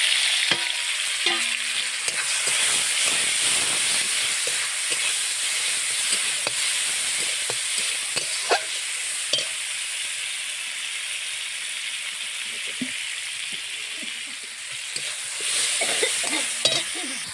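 Onions browned in a pan with tomatoes being poured in, a steady sizzle and frying hiss with scattered clinks and stirring scrapes, close and continuous.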